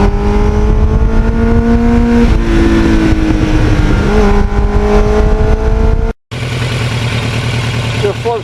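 A Kawasaki Ninja motorcycle riding along shaded back roads, its engine droning steadily with gear-linked pitch shifts and heavy wind rush, loud and continuous, broken by a brief cutout before the ride resumes.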